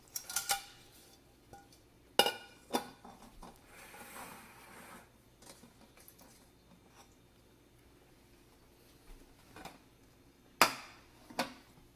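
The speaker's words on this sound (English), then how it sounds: "sweep the edges with a knife so it doesn't stick to the pan" A knife scraping around the edges of a mango cake pan before flipping: sparse, close metallic scrapes and clanks with a few sharp knocks spread across a quiet stretch, no talk.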